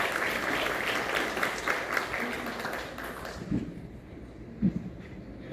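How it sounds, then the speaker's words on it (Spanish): Applause from a crowd, steady and fairly loud at first, thinning out into scattered claps and a few voices toward the end. "Fuertes los aplausos"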